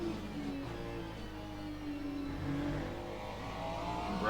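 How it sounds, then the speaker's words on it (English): A GT3 race car engine at Silverstone in a racing video game drones steadily at moderate level, its revs rising and easing as the throttle is worked, with no voices. "you can hear I'm letting the car roll a bit more on throttle or off throttle"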